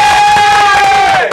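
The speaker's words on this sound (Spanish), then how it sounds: "Un aplauso." A crowd in a podcast setting lets out a loud, brief burst of cheering and shouting, with strained, tonal voices held together for just over a second.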